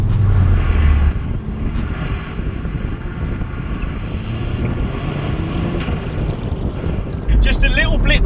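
Tuned Vauxhall Astra VXR at stage 3.5 with about 297 bhp, accelerating hard on boost in second gear around 4,000 rpm, giving a loud, steady engine and road roar that swells briefly at the start and end.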